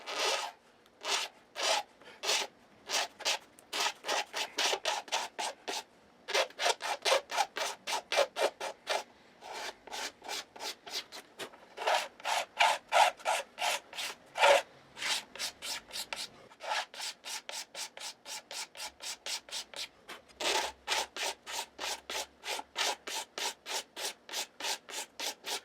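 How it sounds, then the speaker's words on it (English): Sanding blocks rubbing over the wood of a Gibson guitar, a long run of steady back-and-forth rasping strokes, close and clear, with only brief pauses between bursts. "Before we finish up with the sanding blocks"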